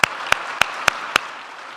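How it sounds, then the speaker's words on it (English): An audience at a formal event applauds its sponsors: five sharp, evenly spaced claps stand out over a softer bed of clapping that gradually fades. "Please join me in a round of applause for all of our sponsors."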